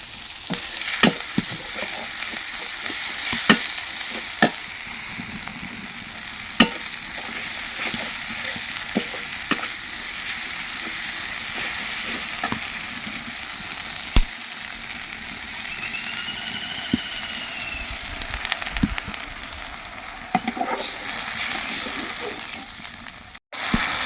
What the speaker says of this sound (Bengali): এটা একটু ভালোভাবে কষা, মানে হালকাভাবে একটু কষান করে নিলাম।